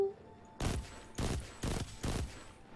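A new weapon in Destiny 2 fires four loud, evenly spaced bursts, each a short heavy rattle of rapid shots, with quiet game ambience between them.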